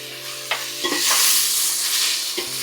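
Chili powder fries in hot oil for sambar, a bright, close sizzle with a few stirring clacks against the pan and a low steady hum beneath.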